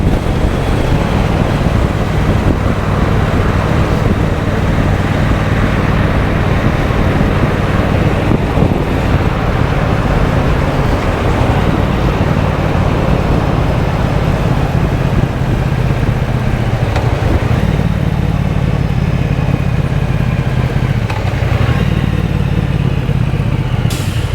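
A brand-new 2023 Triumph Bonneville Bobber 1200 ridden at a gentle pace, its engine a steady, close drone under heavy wind rush on the microphone, with no talk.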